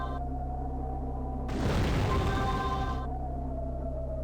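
In the video game Magic Carpet Plus, a dull explosion booms over a low droning game soundscape, one muffled burst lasting about a second and a half before fading.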